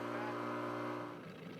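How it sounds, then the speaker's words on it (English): Outboard engine of a boat on a jungle river, a steady droning hum with a clear pitched whine, heard briefly and fairly faint, easing slightly toward the end. "the unusual sound of an outboard engine in the river"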